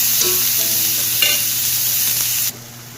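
Tomatoes fry and sizzle in a pan for mushroom tikka masala, a steady close hiss with a few stirring scrapes, cutting to a quieter sizzle near the end.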